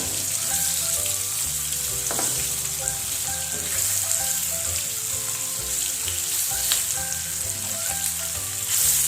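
Paneer frying in hot oil gives a loud, dense, continuous sizzle and crackle that runs steadily throughout, with faint stirring knocks underneath.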